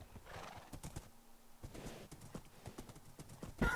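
A horse in the video game Minecraft gallops with rapid clip-clop hoofbeats, closing on a sharp neigh; the sounds are fairly quiet and spaced irregularly across a few seconds.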